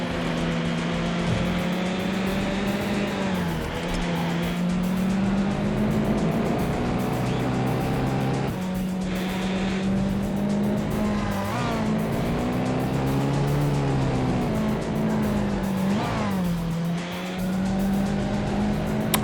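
A race car engine from the Need for Speed: High Stakes game drones loudly and continuously, its pitch rising and dropping with gear shifts, with tire squeal mixed in over the steady roar.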